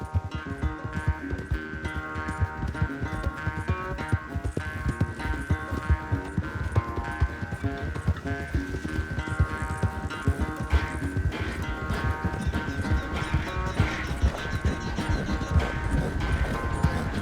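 Horses galloping in Red Dead Redemption 2 during a race, a fast, steady drumming of hoofbeats that stays loud and close for the whole stretch, with a musical score playing underneath and no speech.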